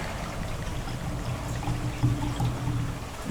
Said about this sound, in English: I'm going to go ahead and pour these